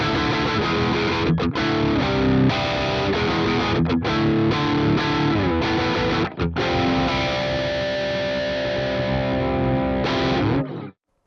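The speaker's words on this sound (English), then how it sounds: "Now let's raise the level, drive the amp harder." Heavily driven electric guitar through an Archetype: Plini X amp plugin, played alone as a dense, sustained distorted passage with a few brief gaps before ringing out at the end.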